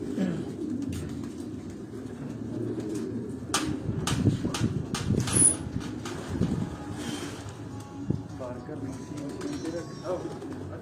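Racing pigeons coo softly and steadily in the background of a loft in Quetta, with occasional wing flutters and outdoor breeze noise.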